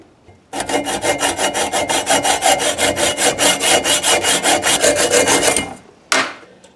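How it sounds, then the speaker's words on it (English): Hacksaw cutting a threaded metal stud during a carburetor-to-fuel-injection conversion: about thirty fast, even back-and-forth strokes, loud and close, ending in a brief pause and one final rasp, with no talking. "now I'm just gonna cut this here with the hacksaw"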